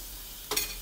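Fish frying in a little oil in a pan: a sudden crackling sizzle bursts in about halfway through, close and fairly loud against a quiet background, then settles into a steady spitting hiss.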